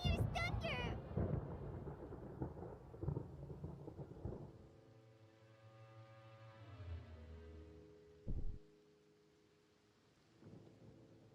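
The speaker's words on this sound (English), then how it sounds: "Paimon hears thunder!" Rolling thunder from a storm in the fantasy game Genshin Impact, a heavy low rumble running under speech and game effects, then a sharp crack near the end followed by a softer distant roll.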